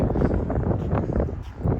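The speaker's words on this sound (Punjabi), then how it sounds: "ਹਵਾ ਚੱਲ ਰਹੀ ਹੈ ਪੂਰੀ" Wind blows outdoors in Canada on a near-freezing early-winter day, producing a steady, loud, low buffeting rumble against the microphone with no voices.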